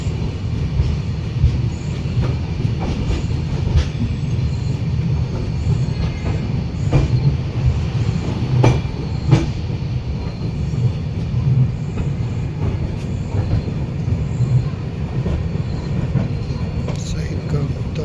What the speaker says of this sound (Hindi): diesel locomotive